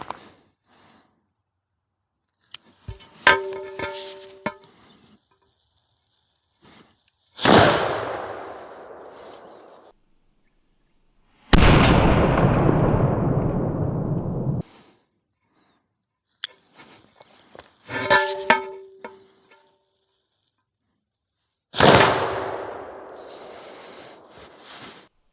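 Hand cannons loaded with pellet shot fire at a gambeson in several loud, abrupt blasts. Each boom is followed by a decaying roar, and a long hissing burst comes between them, with silence in the gaps.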